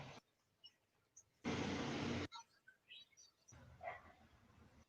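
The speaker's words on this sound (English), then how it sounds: "dogs are barking" Dogs bark in short, scattered bursts from some distance at night, mixed with a loud burst of hissing noise and faint outdoor ambience.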